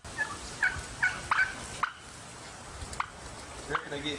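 Turkeys gobbling in several short bursts, fairly close, over a quiet outdoor background.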